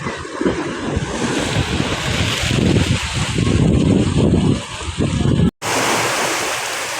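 Water flows in at a water inlet beside a highway being built in Bulacan during flooding, a loud, churning rush heavily buffeted by wind on the microphone, with a brief cut near the end.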